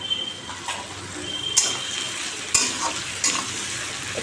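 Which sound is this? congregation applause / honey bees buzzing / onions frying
onions frying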